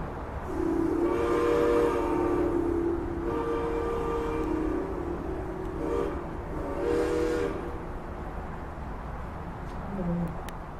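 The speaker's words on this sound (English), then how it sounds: "So the trains in this display can get activated with these buttons." A model train display from a historic railroad exhibit runs with whistle blasts, several long tonal hoots rising and falling over a steady rumbling hum, moderately loud and slightly distant.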